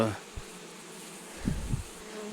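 A newly settled swarm of honey bees hums steadily at the hive entrance beside a beekeeper's wooden board, with a continuous buzzing drone and a few low thumps and handling knocks nearby.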